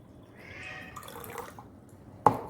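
Water trickles slowly from a beaker into a glass tumbler, a faint soft splashing and dribbling, then ends with one sharp clink of glass near the end.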